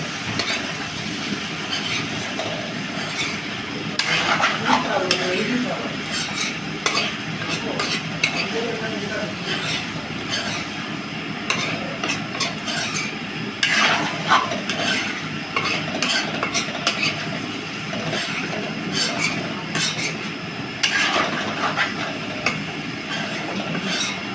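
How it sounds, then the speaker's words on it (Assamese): Chopped tomatoes fry in a pan while being stirred, a constant sizzle broken by scraping and clinking strokes at close range, with faint background voices now and then. "বিলাহী এতিয়া কাটি দিলোঁ অকণমান লৰাই দিলোঁ"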